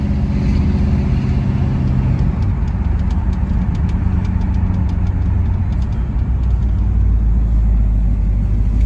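A Mulsanne Blue 1971 Chevrolet Chevelle with a 350 V8 cruises along the road, heard from inside as a loud, continuous low engine rumble with road noise and no talking.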